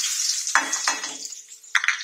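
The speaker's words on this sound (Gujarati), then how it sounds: "ડુંગળી નાખશું, આપણે તળવા દઈશું" Onion tipped into hot oil for a cabbage sabzi hisses in a bright, close sizzle, with a few sharp clatters of a spoon against the pan.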